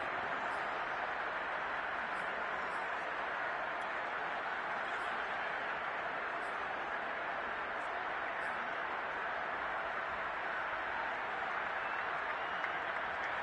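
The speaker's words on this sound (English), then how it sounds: "How about some applause for the defense there?" Continuous, even crowd applause and cheering in a football video game, with a synthetic, looped quality, held at a constant level for the whole stretch.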